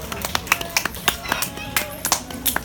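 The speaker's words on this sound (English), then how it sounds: "Applause first for Mike" A small audience at a parrot show claps in sparse, uneven bursts, individual hand claps distinct and close, with speech mixed in.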